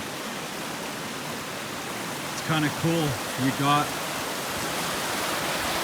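A mountain stream where clear fresh water and silty glacial water merge rushes steadily as a soft, even wash, with a person speaking briefly over it midway.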